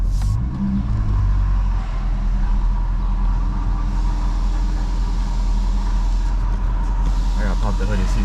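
A Dodge with a 6.4L Hemi engine drives along while rattling, a steady low engine drone and road rumble from inside the car, with faint scattered knocks over the hum.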